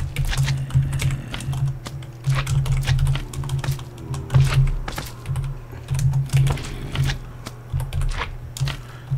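Rapid computer-keyboard typing close by, bursts of clicky keystrokes with short pauses between, steady and fairly loud with no talking.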